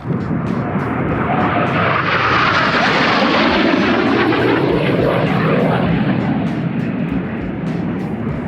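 A fighter jet roars past overhead, a loud continuous rushing engine noise that swells and sweeps through its pass across the whole stretch, drowning everything else.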